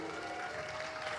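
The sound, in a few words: audience applause welcoming a speaker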